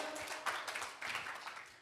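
Faint congregational clapping in praise to God during a church service, a quiet patter of hands with irregular bursts, distant and low in level.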